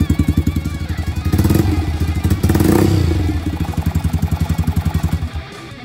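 A loud, close Yamaha YBR125 motorcycle engine with a 150cc bore kit idles rough with a choppy, uneven pulse, surging slightly in the middle before settling back into its lumpy rhythm.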